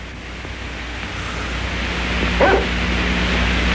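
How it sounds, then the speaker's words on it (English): A dog gives a single short bark partway through, heard at a distance through a steady background hum with no talking. "He made her bark."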